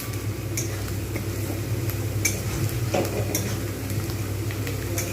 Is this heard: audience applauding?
no